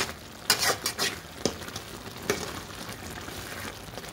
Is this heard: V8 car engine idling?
no